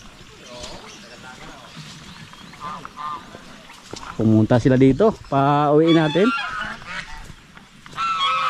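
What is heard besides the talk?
geese honking on a farm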